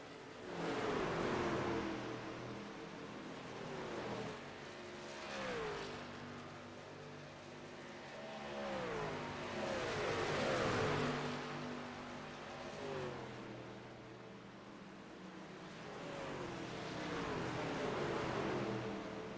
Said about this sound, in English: Four trucks tangling with each other right now, all for position.